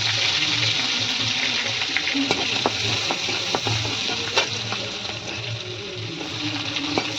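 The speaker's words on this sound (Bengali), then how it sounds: "এবার আমি রসুন ফোড়ন দিয়ে দিলাম" Garlic tempering in hot oil, a close, steady sizzle with a low rumble from the stove beneath and a few sharp spoon clicks and scrapes, no talking.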